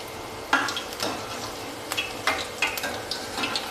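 Kumbhaniya bhajiya frying in oil over a slow flame, a soft continuous sizzle punctuated by several sharp spatters and stirring clinks, close and fairly loud.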